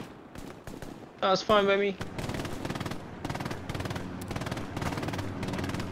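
Gunfire in the World War II shooter Hell Let Loose: a few sharp single shots, then sustained rapid automatic fire that runs steadily to the end, close and loud, with a short line of speech over it.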